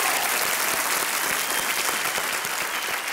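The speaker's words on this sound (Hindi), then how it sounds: "तो इनके लिए भी तालियां बजानी चाहिए" A studio audience on a television quiz show applauds, a dense steady burst of many hands clapping that fills the room throughout, with no talking over it.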